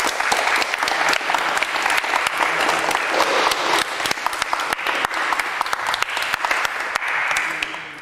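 A live audience at a talk event breaks into dense, sustained applause, many hands clapping together at a steady, even level for several seconds before easing slightly at the end.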